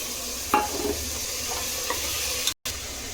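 Elephant yam stir-fries with masala in a pan, giving a close, loud sizzle broken by a few scraping stirs of a spatula and a brief cutout near the end.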